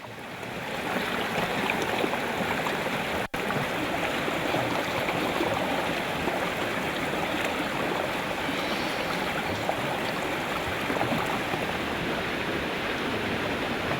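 The Bore River at Kaladungi near Corbett rushes and gurgles continuously, a dense, even wash of flowing water with no voices.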